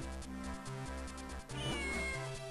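A cat meows in the Zelda game The Minish Cap, a few short game-style meows heard clearly over looping background music, with no talking.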